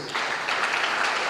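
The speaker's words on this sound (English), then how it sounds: "Please round of applause." Audience applause at a national NYSC honours award ceremony, a steady dense round of clapping from a crowd that fills the whole stretch at even loudness.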